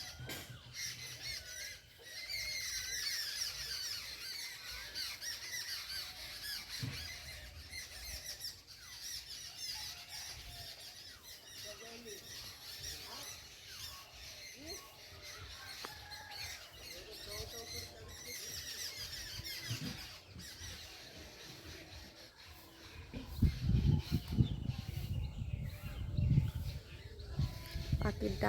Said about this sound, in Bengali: এই ভর দুপুরবেলা পাখির ডাকটা খুব সুন্দর লাগে।